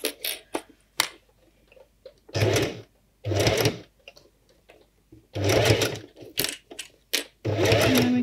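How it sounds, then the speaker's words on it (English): A sewing machine fitted with a zipper foot stitches a fursuit tail in several short, loud bursts of fast mechanical whirring, separated by pauses filled with faint clicks and handling noises. "And then we can just sew on."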